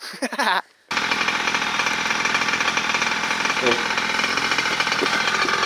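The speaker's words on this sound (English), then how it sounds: "49 cc's of gas-powered modified engine and pipe" A 49cc gas-powered modified RC monster truck engine with an aftermarket pipe screams loud and close, a sustained high buzzing rev that runs steadily after a brief pause, with snow underfoot outdoors.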